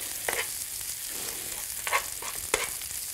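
Bacon frying with oats in a pan for an Ulster-Scots mealie-crushie, a steady crackling sizzle broken by a few sharper pops and stirring scrapes.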